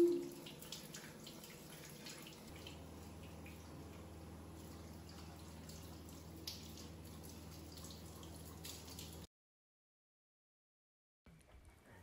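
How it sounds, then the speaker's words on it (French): Shower runs as a small child bathes at home in the evening, a low steady hiss of falling water with faint drips, quiet and continuous, cutting out abruptly near the end. "c'est l'heure de la douche"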